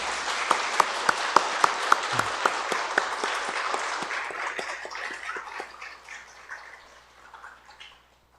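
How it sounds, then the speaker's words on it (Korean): A church congregation applauds during a Sunday worship service to welcome visitors. Several sharp, distinct claps stand out early over a warm wash of clapping that gradually thins and fades away. "여러분 따뜻한 박수로 한번 환영하도록 하겠습니다."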